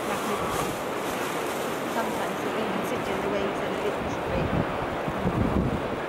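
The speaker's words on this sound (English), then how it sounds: "It's really windy" Strong winter wind roars and buffets the microphone across a Welsh coastline, with surf churning beneath; a voice speaks faintly at times under the gusts.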